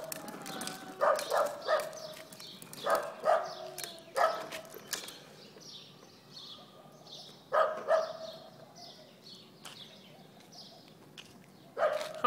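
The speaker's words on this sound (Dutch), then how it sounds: "Gaan we naar het hondje?" A small dog barks in short, repeated bursts outdoors on the way to a playground, the yaps coming in clusters over steady background noise with birds chirping.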